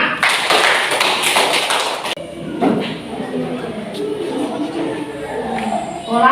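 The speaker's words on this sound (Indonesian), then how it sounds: "Oke, tepuk tangan buat kalian semua." A class of children clapping together, a dense burst of rapid claps filling the first two seconds, then scattered lighter taps, thumps and crowd murmur in the room.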